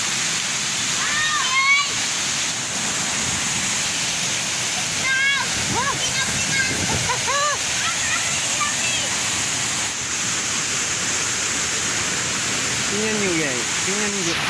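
Tagbibinta Falls pours in a steady, loud broadband roar of falling water that fills the whole stretch, with occasional voices and whoops faintly heard over the rush.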